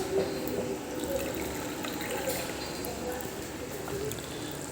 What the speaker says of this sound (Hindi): अभी थोड़ा सा पानी भी ऐड कर सकते हैं